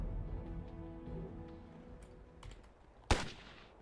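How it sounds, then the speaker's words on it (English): An M4 rifle fires once in a Ghost Recon video game, a single sharp crack near the end that stands out over a faint, quiet background. "that was the M4 firing"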